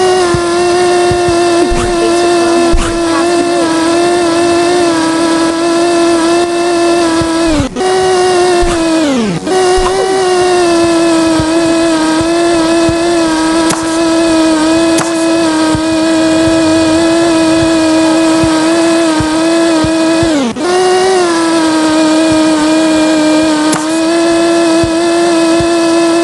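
A loud, continuous high-pitched electric whine of an RC car lapping a track in the video game Yeeps, holding steady with a few sharp dips and swoops as it slows and speeds up through turns.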